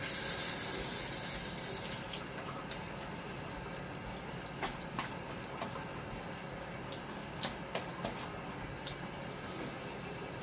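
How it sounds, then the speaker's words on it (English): Running tap water rinses a Gillette Aristocrat safety razor loaded with a Super-Max Blue Diamond blade, a steady soft hiss of flowing water at the sink with faint clicks and small splashes, no talking. "Just a little half rinse there."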